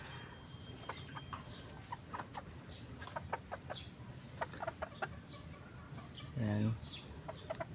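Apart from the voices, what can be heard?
chickens clucking in coop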